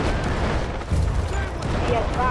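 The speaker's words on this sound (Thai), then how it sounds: "โอ้โหระเบิดมาเป็นชุดเลยว่ะ" Explosions go off in quick succession during a Delta Force match, heavy booms and rumbling blasts rolling through dense in-game noise, with a player talking over them.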